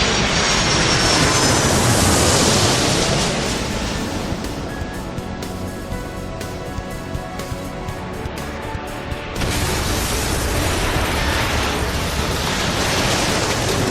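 An aircraft roars loudly on takeoff in the airport-management game Airport Madness 3. A broad, continuous engine rush dips slightly midway, then swells again toward the end.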